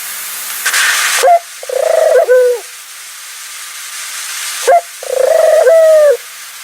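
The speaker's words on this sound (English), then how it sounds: "These are the temple doves Helios and Vesta." Two temple doves coo close by, loud and clear: a pair of rolling, throaty coo phrases separated by a short gap, over a faint steady hiss.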